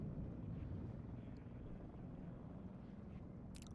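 Helicopter rotor and engine noise in the video game Warno, a steady low rumbling drone that stays loud throughout, with a brief clicking sound near the end.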